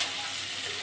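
Shrimp frying in a pan for a bottle gourd shukto, a dense, steady crackling sizzle, close and bright, lasting under a second with no voices.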